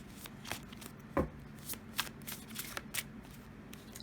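Cards being shuffled up close, a rapid riffling flutter with crisp snaps, repeated bursts over a few seconds with no talking.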